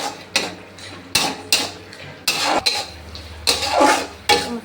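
Chicken meat is stirred in a pan while cooking for chicken rolls, making about six distinct scraping strokes of a utensil against the pan at a steady, unhurried pace, close and fairly loud.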